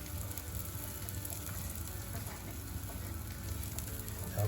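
Bread chunks frying in hot oil in a pan for Caesar salad croutons, a steady close crackling sizzle with faint clicking stirs throughout, no voices.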